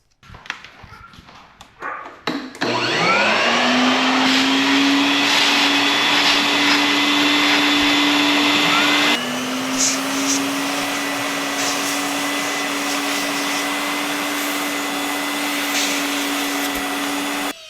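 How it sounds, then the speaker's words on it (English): A Dyson cordless stick vacuum starts up and runs loud and steady at close range, its motor whine holding constant with a slight drop in pitch partway through, no voices present. "we're simply going to vacuum your vacuum"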